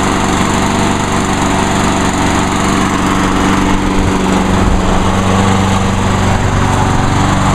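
A Craftsman lawn mower engine runs loud and close, a steady, unbroken buzzing drone with no pauses.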